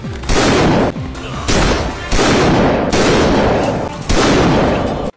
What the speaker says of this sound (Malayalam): എയർപ്ലെയിൻ തകർക്കാൻ വേണ്ടി ജോണി സിൻസൺ ടീം, പിന്നെ പൊരിഞ്ഞ ഫൈറ്റും വെടിവെപ്പും.